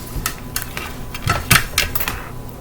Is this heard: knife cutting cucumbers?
yes